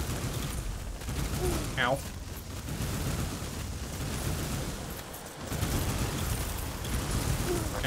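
Weapons firing in the roguelike shooter Lone Ruin, a dense continuous barrage of shots and impacts with a brief exclamation from a player's voice partway through.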